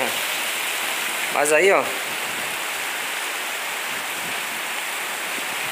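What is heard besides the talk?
heavy rain at night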